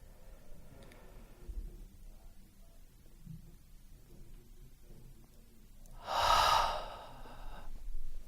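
A person doing a guided breathing exercise exhales fully, a soft near breath that swells into one strong, rushing outbreath toward the end, with quiet background before it and no talking.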